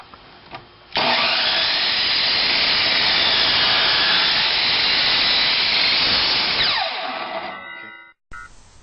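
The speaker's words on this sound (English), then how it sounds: "Take the plank to the saw." A power saw cuts a wooden plank for a birdfeeder roof, spinning up abruptly into a loud, steady whining roar that holds for several seconds, then winds down, followed by a short clunk.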